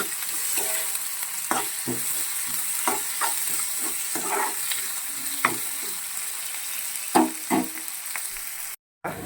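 Onions fry in a pan for bisi bele bath, a steady close sizzle broken by intermittent scraping stirs and soft clinks, with a brief silent gap near the end.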